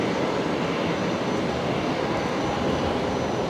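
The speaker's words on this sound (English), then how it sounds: "I think Singapore is about to begin its takeoff roll" A Singapore Airlines jet at Brisbane Airport begins its takeoff roll at night, its engines a steady, loud, broadband roar with no pauses.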